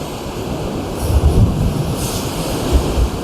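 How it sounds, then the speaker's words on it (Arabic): Sea waves rolling in along the shore at Safi, Morocco, a steady broad wash of surf with wind noise, swelling in a couple of louder surges, heard alone without speech. "واحد الموجه جايه"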